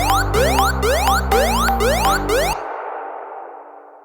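A large, clean reverb is applied to a run of bright, stacked synth-like tones in music production; each stab rings out, and after the last one a long, smooth reverb tail decays gradually into silence.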